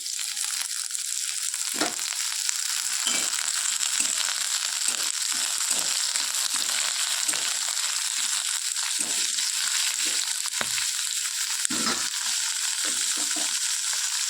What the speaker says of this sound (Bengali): এবার দিয়ে দেবো পালং শাক কুচি